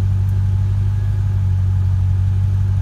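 C5 Corvette V8 fitted with cheap eBay mufflers, a deep steady low rumble held at elevated revs, close and fairly loud with a mild throb, no talk.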